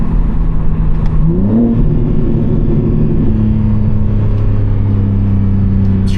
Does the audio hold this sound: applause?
no